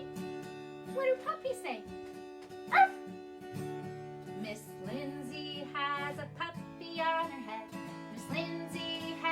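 An adult voice imitates a puppy's bark with a sharp, playful "arf" during a children's music session, sung and spoken lines around it over sustained keyboard chords.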